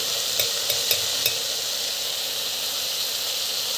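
Spices and chilli powder sauté in a pan, giving a steady close frying hiss with four quick spatula taps early on, no voices.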